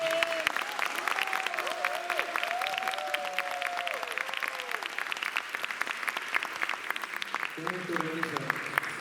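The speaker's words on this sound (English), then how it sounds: "They give a great applause from all of you and our support" Audience clapping at a Thyagaraja Aradhana music festival in Cleveland, continuous dense applause with sustained tonal sounds and a voice over it.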